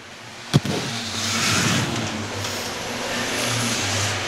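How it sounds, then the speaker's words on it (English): Race cars run on a speedway oval track during a Six Shooters feature, a steady engine roar swelling and fading as they pass, with one sharp click near the start. "Ryan Partridge in the 25 car trying to fend off Jenna Bolio down the back straightaway."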